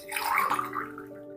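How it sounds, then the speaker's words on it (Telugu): Water poured from a glass into a pan while making red wheat rava (samba godhuma) upma, a steady close splashing pour lasting just over a second with no talking. "ఇప్పుడు నేను ఆ గ్లాస్ తోటి 1 గ్లాస్ వాటర్ వేసాను."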